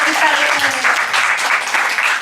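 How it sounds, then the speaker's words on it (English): Audience clapping at a film festival discussion with the director, a dense, loud burst of applause filling the whole short moment close to the listener. "So, well, big applause for us."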